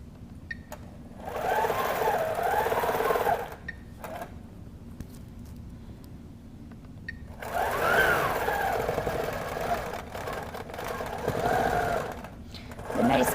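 A sewing machine fitted with a ruler foot stitching English paper piecing, running in two steady whirring bursts of several seconds with a rapid needle rhythm, close by, with a person speaking over it and during the pause.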